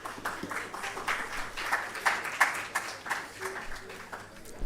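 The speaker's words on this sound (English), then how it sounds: "Let's give him a hand." An audience at a conference on global health research claps in a lively, sustained round of applause that swells and fades slightly, heard from within the room with some murmuring underneath.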